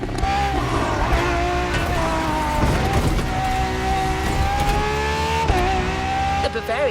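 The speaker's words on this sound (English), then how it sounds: "We have prepared a classic for you from a very famous German brand, the BMW Z4" BMW Z4 M40i roadster engine droning steadily in a racing game, with a continuous revving tone that rises slightly and dips around shifts, loud and close under constant background music and voice.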